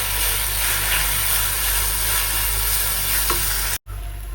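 Turmeric, red chilli, coriander-cumin powder and salt being stirred through in a frying pan, making a steady hiss and scraping that runs on with a low hum beneath, then cuts off abruptly near the end.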